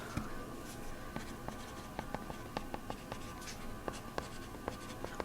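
Handwritten chemical formulas go down on paper in a quiet room, a steady run of faint, crisp pen taps and scratches with irregular strokes and no talk.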